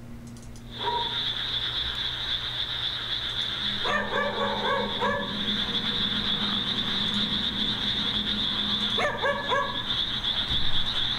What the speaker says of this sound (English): he decides to film as he searches for the barking dog